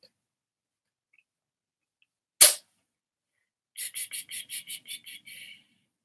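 A single sharp, close sneeze bursts out of silence, followed a moment later by a quick series of high, evenly spaced chirping clicks.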